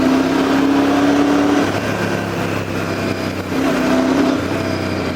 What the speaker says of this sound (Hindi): बहुत दमदार साउंड है यार, क्या पावर रिलीज है यार ये बाइक में